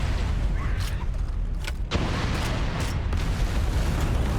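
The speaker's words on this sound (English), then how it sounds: "I let the grenade and the environmental explosions do the rest." Grenade and environmental explosions in the video game Halo: The Master Chief Collection, heavy rumbling booms over a continuous low roar, with a few sharper bursts punctuating the dense, loud battle noise.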